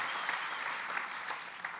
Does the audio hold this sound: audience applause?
yes